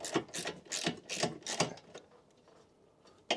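Rapid ratchet clicks as a deep socket turns a nut on a Jaguar's air suspension, a quick run of close clicking that stops, then a single click at the end.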